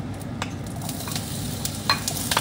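Leek onion being sautéed in a pan for chicken tinola: a soft, steady sizzle of frying with occasional scrapes and clinks of stirring, fairly quiet and close, with no talking.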